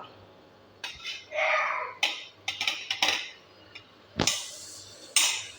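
Prawn masala spooned into a metal puttu steaming tube, with several sharp metallic clinks and scrapes of a spoon against the tube, close and clear, separated by short pauses and followed by a couple of louder knocks.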